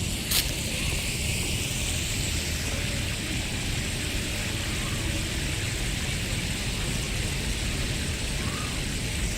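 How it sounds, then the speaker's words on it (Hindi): Water splashing from old ornamental garden fountains at Humayun's Tomb in Delhi, a steady broadband wash of spray and trickle running unbroken, fairly close, with no talk over it. "और जो ये फव्वारे हैं ना, ये ऐसा लग रहा है जो भी यहाँ पर लगाए हुए हैं जैसे ये पहले के ज़माने के ही हैं, और इनसे इतनी अच्छी आवाज़ आ रही है"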